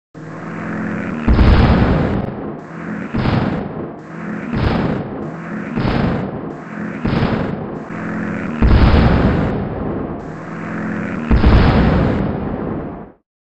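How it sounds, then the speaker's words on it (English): Strategic bomber strikes in the strategy game World Conqueror 4, a run of about seven heavy booming explosions in steady succession, each loud and rumbling with a drawn-out decay, and no talking. "Use strategic bomber from Smolensk to kill him."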